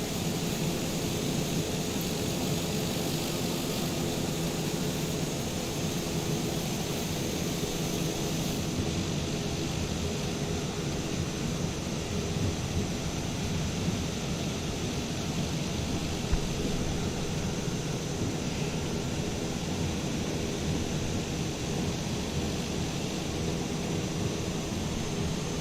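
A TBM 930 turboprop taxiing in Microsoft Flight Simulator 2020 gives off a steady, loud engine drone with a high whine and broadband hiss that barely changes throughout.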